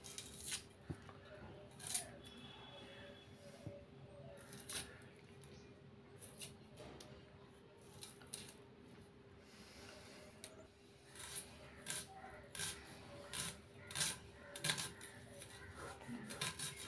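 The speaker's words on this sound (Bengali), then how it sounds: "এবার দুটো পেঁয়াজ কেটে নিচ্ছি ঝিরি ঝিরি করে" A knife thinly slicing peeled onions on a board, with soft repeated cutting taps and scrapes that come in quick irregular bursts, faint and close over a steady low background hum.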